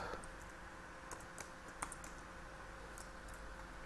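Faint, scattered keystrokes on a computer keyboard while code is typed, light irregular clicks over a steady low background hum.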